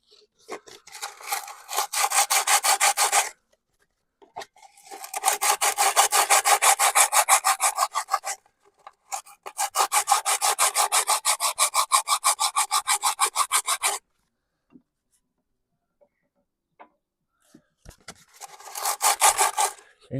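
A hand file works the bruised end of a 1921 Lister TM stationary engine crankshaft, loud close rasping strokes in three long rhythmic bursts with short gaps, then a brief fourth burst after a pause.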